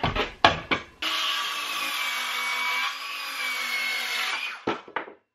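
A 2x4 having its excess cut off at a 45-degree angle: a few short knocks, then a loud, sustained power-saw whine biting through the wood for several seconds before it cuts out, followed by brief clatter.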